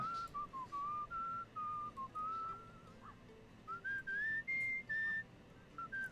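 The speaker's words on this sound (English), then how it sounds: "the character is actually whistling the tune of the song that's playing in the background" A character in the video game Where the Water Tastes Like Wine whistles a melodic tune in short phrases with brief pauses, the clear tone rising and falling over a quiet background, matching the background music.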